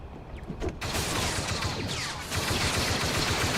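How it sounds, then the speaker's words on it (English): Blaster gunfire in a Star Wars video game comes as a dense, continuous volley of rapid shots. It is loud and sustained, with a brief lull before it resumes. "We got something shooting at us."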